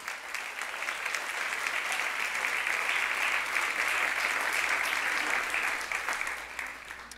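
Sustained applause from a church congregation at a celebration service, a broad, even rush of many hands clapping that builds, stays full through the middle, and eases slightly near the end.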